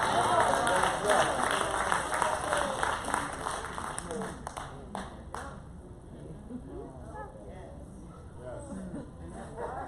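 Church congregation clapping in a rhythmic run, loud for the first few seconds then thinning out to scattered claps as a voice speaks over the room.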